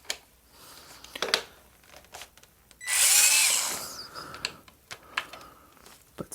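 A star bit works screws loose from a Honeywell heater, giving small clicks, scrapes and metallic rattles close by, with a bright whirring whine lasting about a second partway through.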